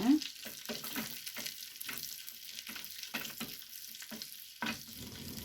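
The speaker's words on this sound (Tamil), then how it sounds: "மிளகா வந்து நல்லா வதங்கணும்." Slit green chillies frying in butter in a pan for Lahori chana masala, a nearby crackling sizzle with repeated spoon scrapes and stirring knocks, steady throughout with no talking.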